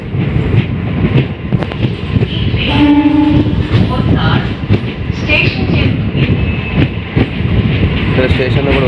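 A train at a railway station, with loud rumbling and clattering of wagons, brief squealing tones midway and people talking in the background.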